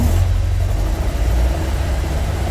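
Engine of a 1956 Alfa Romeo Giulietta Spider running under throttle during a generator and charging test, a loud, close, deep rumble holding fairly steady throughout.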